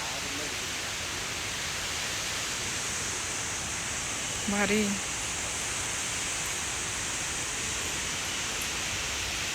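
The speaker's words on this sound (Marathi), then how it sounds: "भारी आली नदी" A river flows steadily past a temple, its water making an even, continuous hiss throughout, with one brief spoken word midway.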